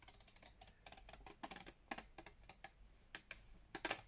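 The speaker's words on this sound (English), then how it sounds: "So I'm going to cut this out. Just a fussy cut around this." Scissors fussy-cut around a paper image for a planner collage page, giving quiet, crisp snips in irregular clusters with short pauses, close and alone without talk.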